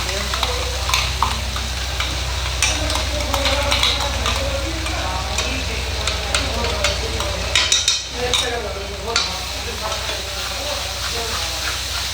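Gravy frying in a pan, with a steady loud sizzle and hiss while it is stirred, and a spoon scraping and tapping in irregular strokes close by.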